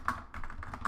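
Quick taps on a computer keyboard while coding a Unity fire-mode script, a short burst of several keystrokes in an uneven rhythm, close and fairly quiet, no voice.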